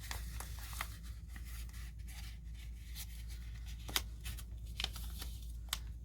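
Paper origami fidget toy being folded and pushed at the corners, giving soft papery crinkles and crisp flicks at close range, fairly quiet over a steady low hum, with a few sharper snaps near the end.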